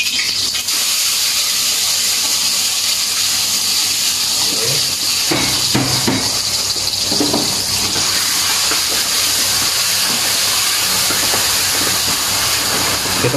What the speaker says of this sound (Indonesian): Jadi kita sekarang tumiskan bumbunya. Ini kebetulan minyaknya udah panas ya.